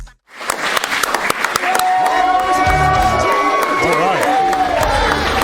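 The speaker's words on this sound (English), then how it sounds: "A warm welcome from the hometown crowd." A hometown crowd at a CarJitsu fight night roars with sustained cheering, applause and whistles, loud and close, filling the whole stretch after a brief quiet start.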